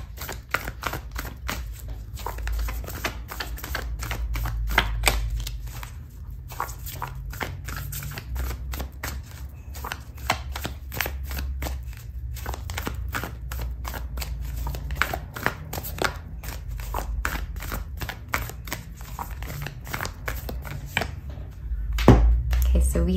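Oracle cards being shuffled, a long steady run of rapid crisp riffling and flicking close by, continuous throughout with a low background rumble and no talk.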